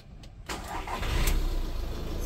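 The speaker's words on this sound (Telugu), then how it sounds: "ఒకసారి మనం ఇంజన్ స్టార్ట్ చేస్తున్నాం చూడండి." A 2016 Volkswagen Polo Highline diesel with about 59,000 km on it cranks briefly and fires on the first turn. It settles into a steady, close diesel idle with a low rumble.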